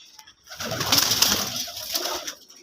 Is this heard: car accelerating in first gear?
no